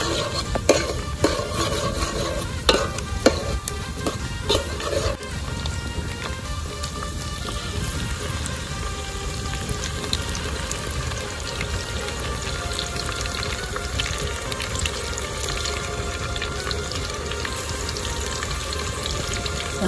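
Ginger garlic paste fries with browned onions for a village chicken curry, a loud close sizzle under repeated scraping stirs at first, then settling into a steady dense hiss of frying.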